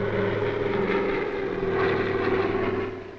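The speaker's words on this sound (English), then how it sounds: "That's an airplane." A propeller airplane drones steadily nearby, a constant humming engine that eases off slightly at the end.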